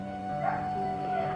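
A dog barks outside, a short yapping burst heard faintly in the background beneath a steady musical drone.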